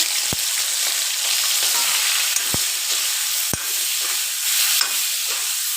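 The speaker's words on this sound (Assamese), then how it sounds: "এতিয়া মই মাছৰ মুৰ্গীডোখৰ ইয়াতে মই তেলতে দিম। এতিয়া তেল যিহেতু গৰম হৈ গৈছে," Pieces of fish frying in hot oil in a village kitchen wok, giving a steady, close sizzling hiss throughout, broken by a few sharp clicks and taps, with no talking.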